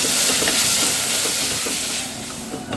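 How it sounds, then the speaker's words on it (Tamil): Chopped onions sautéing in a pan for a goat leg curry, a loud, close, continuous sizzle with a few soft spoon-stirring scrapes, easing slightly near the end. "வெங்காயம் நல்லா வதங்கணும், அதுக்காக தான் நான் சாப்பரில் போட்டு எடுத்துட்டேன். இது நல்லா வதங்கட்டும்."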